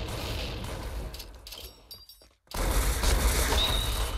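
Rapid macro-fired gunfire in the online shooter Crack Down, a dense crackling fusillade of shots that cuts out briefly midway and then resumes louder, with clinking sounds mixed in.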